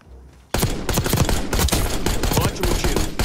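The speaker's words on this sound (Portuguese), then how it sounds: "quantos tiros tem que dar pra matar uma pessoa nesse game?" Rapid automatic gunfire from Call of Duty: Black Ops 6 gameplay bursts in loudly after a brief quiet start, with dense overlapping shots and bursts continuing without pause.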